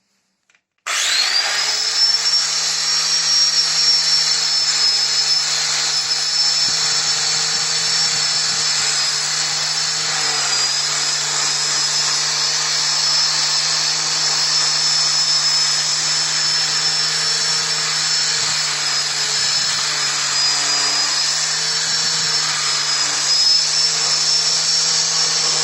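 A power sander runs steadily on a handmade wind turbine blade, a loud, continuous high whine with a grinding rasp that holds nearly unchanged for the whole stretch after starting abruptly.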